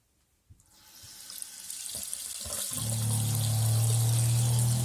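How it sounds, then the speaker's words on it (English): Water runs from the taps aboard a narrowboat fitted with a new Jabsco water pump. Flow starts after a click, builds into a steady hiss, and a low pump hum kicks in about halfway through, with no talking. "now I'll run the taps"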